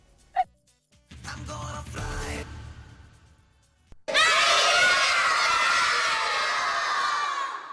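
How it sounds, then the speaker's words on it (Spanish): A group of children at a city clean-up event in Rosario shout together in one loud burst after a quieter stretch of voices and noise, a sustained collective yell lasting several seconds. "antes de este gritito que van a escuchar ahora."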